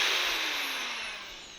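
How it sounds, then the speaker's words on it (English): A worn old electric drill motor powered from a Chevrolet Silverado truck battery whines steadily and loudly nearby, its pitch sliding slightly as it runs, with no voices. "This is a messed up old drill motor, but just good for like testing."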